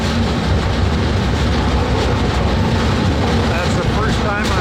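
Westbound freight train rolling out of Chicago, a loud, constant rumble and roar of rail cars heard from aboard, steady throughout with faint metallic squeals near the end.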